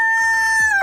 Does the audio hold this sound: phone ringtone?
no